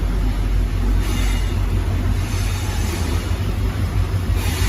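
Inside the last coach of a moving passenger train on the Bengaluru to Nanjangud line, a loud continuous low rumble of wheels and carriage noise with steady broadband rushing, no talk.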